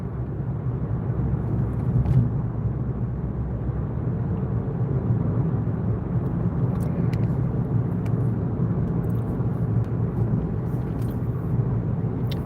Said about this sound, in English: we're driving on a lonely mountain road with